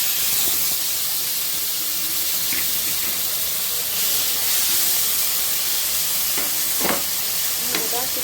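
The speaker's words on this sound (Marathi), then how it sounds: "आपली राई आणि जिरी छान तडतडली आहे आपण आता यामध्ये ही चटणी टाकून घेऊ" Mustard seeds and cumin crackle and sizzle in hot oil for a home-cooked bitter gourd chutney, a steady frying hiss with sharp pops scattered throughout and a stir, no voices.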